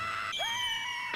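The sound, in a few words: cartoon cannonball screaming before impact, One Piece anime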